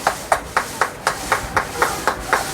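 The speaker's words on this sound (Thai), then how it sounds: "ใช้ค้อนเคาะเหรอคะ" Quick, evenly spaced hammer taps on a glass bottle of jelly-like drink at a night market, about ten in a row, each a bright hard knock in a steady rhythm with no talking.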